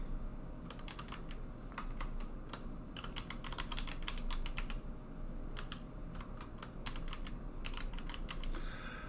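Typing on a computer keyboard to enter a track name, bursts of quick, close key clicks separated by short pauses, with faint room hiss underneath and no talking.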